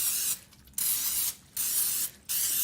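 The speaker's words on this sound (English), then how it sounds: "we're gonna spray it with non-stick spray." Three short bursts of aerosol non-stick spray onto a donut pan hiss in quick succession, each cutting off sharply, close by and fairly quiet.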